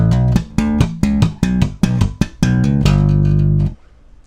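A bass guitar plays a slap lick, a quick run of sharp, punchy plucked notes followed by a held low note that rings out and then stops, loud and close with no talking.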